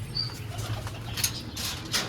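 Pigeons leaving a cage give a few soft wing flaps and flutters, close and fairly faint, over a low background hum.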